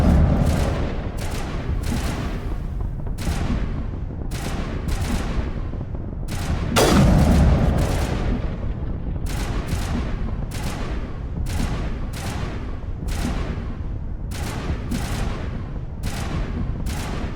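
Gunfire in the video game Mass Effect cracks out in sharp, separate bursts, some close together, with one heavier boom partway through, loud and without talk.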